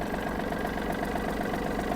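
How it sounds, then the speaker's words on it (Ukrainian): Yanmar F-200 mini tractor engine idling steadily, a continuous close, even mechanical drone with a faint regular pulsing throughout, no voices. "Слухаємо звук трактора."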